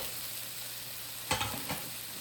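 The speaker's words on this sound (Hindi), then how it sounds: "इसके बाद अंडे को हम तोड़ लेंगे और इनको प्रॉपर्ली मिक्स कर देते हैं।" Egg being broken up and mixed with butter in a pan for Chinese chicken fried rice: a steady low sizzle with two short scraping stirs near the end, close and fairly quiet.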